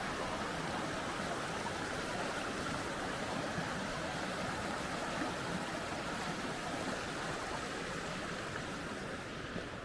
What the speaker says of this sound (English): This river is absolutely so clean, it's unreal.